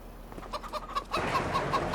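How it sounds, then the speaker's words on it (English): Chickens in the Farming Simulator 25 video game cluck in a quick series of short, bright calls, starting faint and growing louder and busier over a low farmyard bed, with no talk. "And we got chickens."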